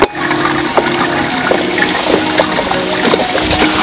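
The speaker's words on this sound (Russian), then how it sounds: "осталось только залить воду, чем я сейчас и буду заниматься." Water from a 25-litre supply being poured into an aquarium, a steady splashing, gurgling fill heard close and fairly loud, with faint hollow knocks, no talking.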